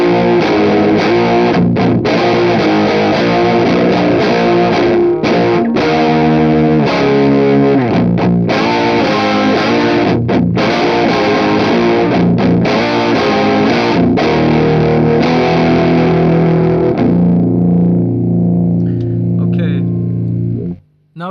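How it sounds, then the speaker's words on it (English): An electric guitar plays through a Green Mujina pedal set to full distortion, with loud, sustained, heavily driven chords and riffs running continuously for about twenty seconds before cutting off abruptly. "Okay, full distortion."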